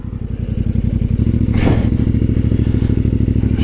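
A CF Moto 450 MT motorcycle idles close by with a steady, even engine thrum and a brief whooshing scrape partway through, no voices present.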